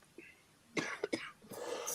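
A few harsh coughs and throat-clearing bursts in close succession during a wrestling podcast, loud and near the microphone, with no talk over them.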